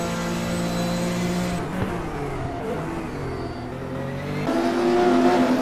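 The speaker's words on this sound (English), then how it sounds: "Sounded like he was locking the brakes slightly." A Porsche Cup race car in a sim racing game drones steadily as its brakes lock slightly under braking, with a dip in engine pitch and tire scrub before the revs climb again.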